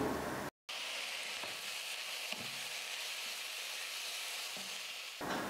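Tomatoes cooking in a pan with turmeric and salt give a steady, close sizzle and crackle that runs almost the whole time, with faint stirring knocks and one brief dropout near the start.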